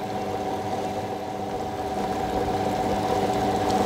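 A wet grinder grinding ragi idli batter in a kitchen: a steady, continuous mechanical hum and rumble with faint churning texture, close and even throughout, with no voices.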